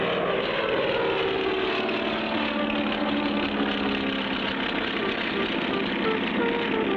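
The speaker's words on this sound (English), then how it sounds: "hurry to the airport, hop into the plane with Spinner and Paddlefoot, and speedily start on a journey" A propeller airplane in a cartoon adventure drones steadily and loudly throughout, its engine filling the whole stretch with a continuous, even roar as it takes off and flies.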